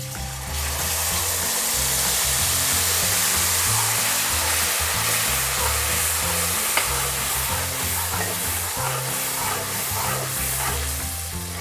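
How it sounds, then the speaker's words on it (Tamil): Tamarind solution is poured into a hot pan of tempering with dried chillies for Madurai tamarind rice, giving a steady loud sizzle and bubbling hiss that holds evenly throughout, with no talking. "பிச்சு வச்சுருக்க காஞ்ச மிளகாய், இது எல்லாத்தையும் போட்டு லைட்டாக தாளிச்சுட்டு புளி கரைசலை ஆட் பண்ணுறோம்"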